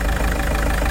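A motorhome engine idles steadily up close, a continuous low rumble with no talk over it.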